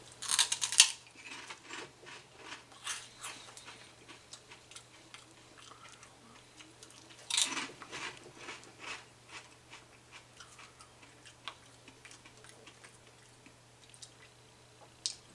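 Crunchy spicy pork rinds chewed close to the mouth, with irregular crisp crackling bites, two sharper crunches standing out among quieter chewing over a steady low hum.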